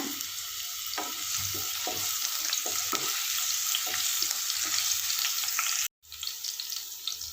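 Steady sizzling and crackling of garlic and ginger sautéing in a hot pan, with occasional stirring scrapes and a brief cut near the end.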